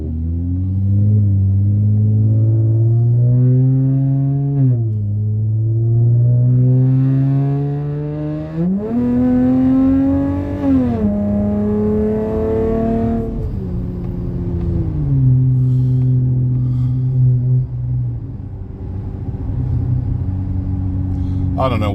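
A Chevrolet Sonic fitted with MagnaFlow Magnapack exhausts revs repeatedly, its loud, close engine note climbing and falling in several rising sweeps with a deep droning exhaust rumble throughout.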